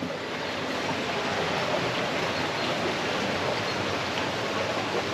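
Water in a bubbling fountain, full after heavy rain, makes a dense, continuous rushing and gurgling wash that stays even and close throughout.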